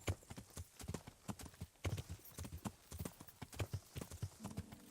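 Hooves clip-clop in a quick, steady galloping rhythm in the video game Kingdom Come: Deliverance, fairly close and distinct, with faint background sounds underneath.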